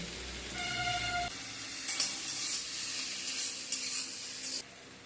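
Pointed gourd and ridge gourd fry with salt in a pan, a moderate steady sizzle and hiss with a few soft stirring bumps, cutting off abruptly near the end.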